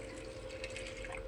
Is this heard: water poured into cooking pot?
yes